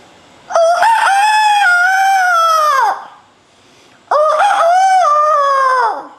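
A rooster crows twice in two long, loud, drawn-out calls, each rising then trailing off, with a short pause between them and no talk.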